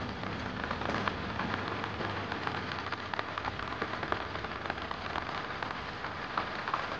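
Rain falls steadily on a flooded, half-submerged island village, a dense continuous patter of drops on water and surfaces, close and even, with no talking.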